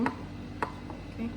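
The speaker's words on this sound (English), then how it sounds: "what I'm going to do is to just slice like this" Knife cutting through a baked potato gratin, two or three soft, close chopping thuds against the dish in quick succession.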